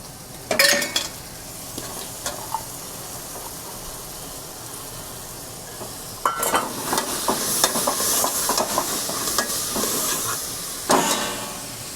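A spoon scrapes and stirs through drained lentils in a hot pan, with intermittent sizzling bursts and a steady hiss of steam underneath.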